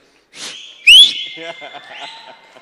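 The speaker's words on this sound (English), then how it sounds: "how many of you know how to whistle like this?" A person whistles loudly and close, a sharp rising whistle followed by sustained tones with crowd noise around it.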